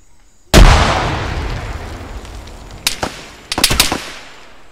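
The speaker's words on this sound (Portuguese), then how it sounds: "Tacar uma granada lá pra ver se resolve." A grenade blast in the military shooter Arma 3 hits loud and near, followed by a long rumbling decay and then several sharp bursts of gunfire toward the end, with no talking.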